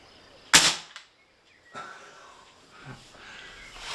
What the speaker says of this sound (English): I'll do a few shots through the chronograph to start with